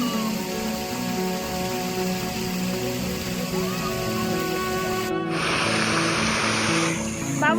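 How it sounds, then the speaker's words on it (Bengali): Water from a fountain at Eco Park in Kolkata falls with a loud, steady rushing hiss that swells in after a stretch of tonal background hum and continues to the end. "মামনি ভয়ে ফোয়ারা হতে জল পড়ে"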